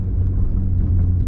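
A straight-piped Acura TL gives a low, steady exhaust drone from inside the cabin while driving, a deep continuous rumble that lasts only a moment with no talking.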